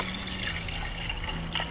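Water poured from a bottle into the boiling vessel of a homemade hobo stove, a steady close trickle and splash running for under two seconds with no voices.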